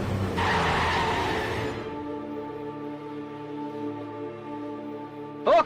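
A car brakes hard on the road, a loud skidding tire screech for about two seconds that trails into a fading engine hum, then a sharp brief noise near the end.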